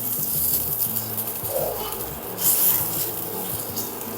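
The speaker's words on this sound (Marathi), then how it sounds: "तव्याला आहे ना असं तेल चोळून घ्यायचं चौकडून" Oil hissing and sizzling as it is rubbed across a hot tava griddle while preparing dhirde, a steady close frying hiss with a brief louder swell partway through, no voices.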